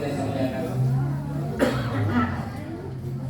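A person coughs once, sharply and briefly, during a speech in a room, amid low murmuring and background hum.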